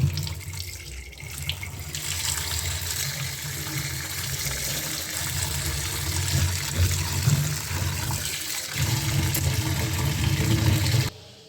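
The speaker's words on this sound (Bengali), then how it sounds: "এবার আলু আর কুঁদরিটা আমি সব ধুয়ে নিচ্ছি" Tap water runs steadily over cut ivy gourd and potato slices being washed in a kitchen sink, a continuous splashing stream with small surges and no speech.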